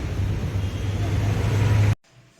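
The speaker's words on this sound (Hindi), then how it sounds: "तो दोस्तों बाकी मैं आपसे मिलती हूँ घर जाके क्योंकि ट्रैफिक की बहुत आवाज़ है।" Dense road traffic noise fills the air with a loud, constant roar of passing cars and engines, then cuts off abruptly near the end.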